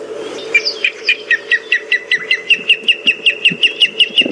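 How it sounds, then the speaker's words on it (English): A Wahlberg's eagle on an African safari drive gives a long run of evenly spaced, shrill whistled notes, about a dozen and a half in steady rhythm, loud and clear over a low background hum. "I think that it was a Wahlberg's eagle that we were hearing."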